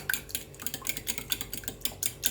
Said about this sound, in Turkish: Şöyle güzelce bunu kaynaştıralım. Güzelce çırpışalım.